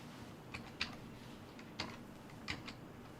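Typing on a sticky computer keyboard: a few sparse, faint key clicks spaced irregularly over a quiet room background, with no talking.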